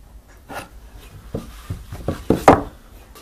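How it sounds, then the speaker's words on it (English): Pencil or marking tool drawn across wood to lay out tenon shoulder lines for a chair: a few short, close scratching strokes and light taps, quiet and irregular, with no talk. "First I mark the shoulder of the tenon on both sides. Then I connect the lines."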